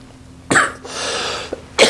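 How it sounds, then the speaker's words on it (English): A couple of short, throaty coughs close by, separated by a brief pause, with another starting at the end. "I'm not sure why I have this little cough."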